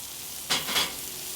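Onions hit a hot pan while making a curry-based lobster roll filling, a short pair of bright sizzling bursts over a low steady kitchen hiss, close and moderately loud.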